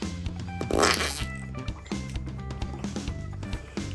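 A toy noisy potty lets out a loud, sputtering fart noise over about a second, layered on a steady backing of children's music that keeps playing throughout.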